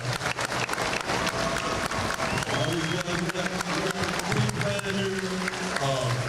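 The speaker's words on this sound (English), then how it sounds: "Let's give them a round of applause." Applause from the crowd at a live commitment event for a basketball recruit, as coaches stand to be recognized, filling the room steadily throughout with voices and a bit of music mixed in.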